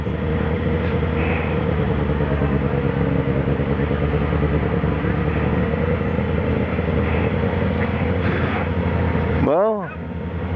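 Yamaha XJ6 motorcycle engine, running cold, idles with a steady loud rumble throughout, close to the microphone, with a passing vehicle sweep near the end as people chatter in a busy street with Christmas decorations.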